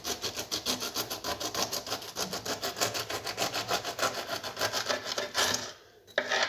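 A knife peels a pineapple from top to bottom: a steady series of rhythmic rasping, scraping strokes, close and fairly loud, about three per second, breaking off briefly near the end before resuming.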